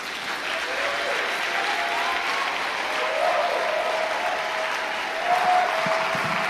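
Sustained applause from an audience at a youth church conference, steady dense clapping throughout with crowd noise rising slightly near the end.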